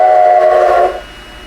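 A model railroad steam locomotive's whistle sounds as one loud, steady, multi-tone blast that holds for nearly a second, then cuts off, leaving faint background hiss.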